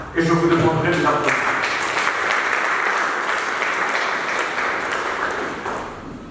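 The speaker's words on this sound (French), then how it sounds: "je vous demanderai de l'applaudir." An audience at a national eloquence contest applauds as a speaker is called up, a dense, sustained wash of clapping in a hall that slowly fades, with a voice speaking over it briefly at the start.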